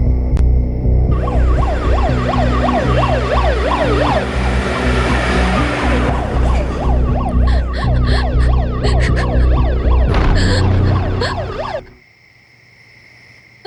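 A loud ambulance siren wails close by in a rapid, repeating rising-and-falling pattern over a vehicle hum. It stops abruptly, leaving quiet.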